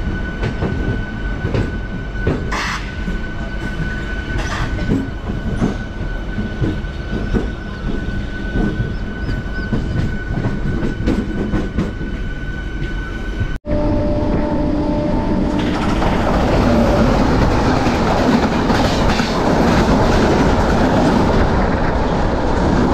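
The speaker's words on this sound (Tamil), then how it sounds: "அதுக்குள்ளே நம்ம ட்ரெயின் கிளம்பிடுச்சு." The Salem to Arakkonam MEMU express pulls away and runs on, a loud steady rumble of wheels and carriages with rhythmic rail clatter that swells into a fuller, louder roar partway through.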